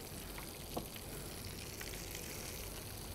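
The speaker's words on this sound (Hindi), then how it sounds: "इसे आपने फ्राई होने के लिए डाल दिया" Coated chicken broast pieces fry in hot oil with a dense, steady sizzle and crackle, quiet and continuous throughout.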